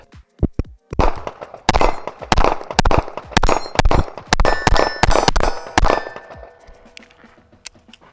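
Rapid pistol shots from an S&W Bodyguard ring off steel silhouette targets, a quick string of sharp cracks each paired with a bright metallic clang, then a few ringing tails fading out.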